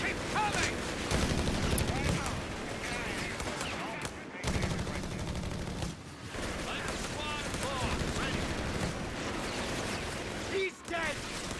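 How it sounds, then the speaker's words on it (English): Rattling bursts of machine gun fire and scattered rifle shots crackle through a busy WWII strategy game battle, mixed with explosions and constant background noise while a commentator talks over it. "The rifles are taking a lot of damage here from the machine gun"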